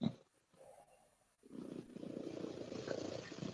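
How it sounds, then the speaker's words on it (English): A pet cat purrs up close in a soft, continuous rumble that fades in after a brief pause and holds steady to the end, faint but clear. "Can you hear her purring?"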